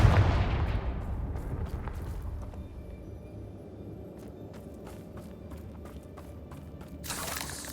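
A Confringo spell blast in Hogwarts Legacy lands as a loud explosive boom that decays into rumbling debris, followed by scattered sharp impacts and clatter, with another burst swelling at the end.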